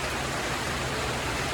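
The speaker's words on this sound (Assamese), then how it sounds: "এইটো একদম বহুত বৰষুণ দি দিছে" Heavy rain in Meghalaya pours down as a dense, steady, even roar with no breaks, loud and close.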